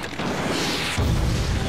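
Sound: explosion hitting helicopter in video game GoldenEye 007 Reloaded

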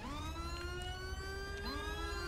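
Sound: police siren in GTA 5 video game

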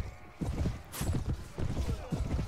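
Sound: horse hooves in Clash of Kings video game battle

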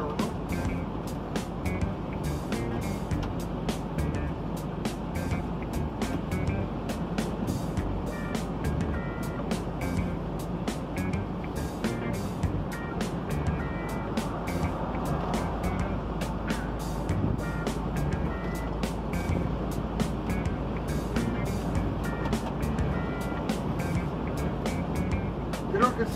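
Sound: MAN truck driving, heard from inside the cab

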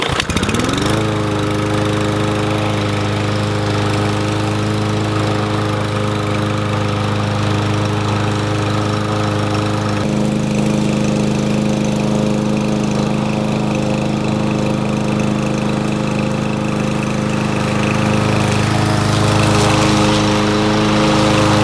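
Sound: Troy-Bilt 110 21-inch lawn mower starting and running

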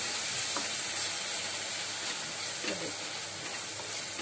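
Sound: yogurt sizzling in a pan on low gas

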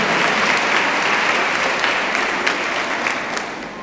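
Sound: audience applause

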